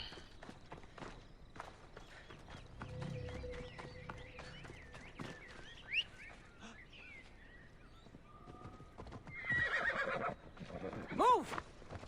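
A horse neighs in the game Assassin's Creed Odyssey, a clear whinny near the end after stretches of hoof steps and ambient game sound, with no speech over it.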